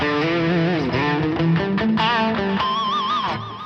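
Electric guitar through a smooth rhythm tone preset on a Fender Tone Master Pro, playing clear sustained chords and bending single notes with a gentle vibrato, loud and alone with no talking.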